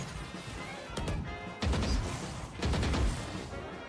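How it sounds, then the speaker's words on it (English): A flashbang grenade in Valorant bursts with sharp crashing impacts, the first near the middle and a second heavy thud soon after, loud and close over game ambience. "Flashbang!"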